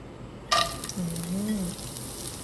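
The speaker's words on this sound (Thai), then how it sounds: "ผมจะเริ่มจากการผัดถั่วงอกก่อน" Bean sprouts hit a hot oiled wok with a sudden sizzle, then a steady crackling hiss of stir-frying continues, with a faint voice murmuring underneath.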